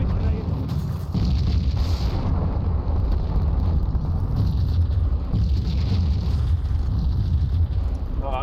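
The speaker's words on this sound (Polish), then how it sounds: "No ale wybuchy." Explosions in the Max Payne shooter game, a continuous loud rumbling roar of blasts and booming low debris noise that fills the whole stretch without talk.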